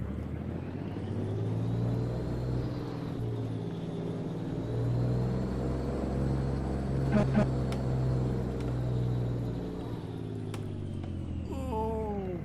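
A truck engine in American Truck Simulator hums steadily as the rig pulls away, a low continuous drone with rising harmonics, while someone talks over it throughout.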